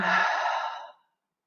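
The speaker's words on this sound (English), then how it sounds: "Big breath in, big breath out." A long, loud exhale from a breathing exercise, a close breathy rush that holds for nearly a second and then fades to silence.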